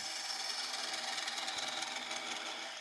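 A turning tool cuts wood on a lathe in one steady, hissing scrape with a faint rhythmic flutter, close and continuous for a few seconds, with no voices.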